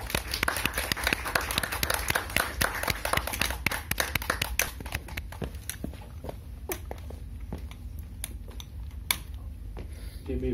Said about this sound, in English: Round of applause for the film's director, Prateek Vats.